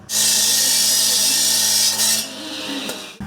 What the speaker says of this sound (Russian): ловко орудуя бензопилой, командир звена пробивает путь прямо через кровлю